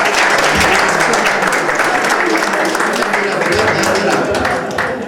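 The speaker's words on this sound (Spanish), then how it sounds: "Así que se merece un aplauso." Audience at a book presentation breaking into loud, dense applause that holds steady throughout, with a few voices murmuring beneath the clapping.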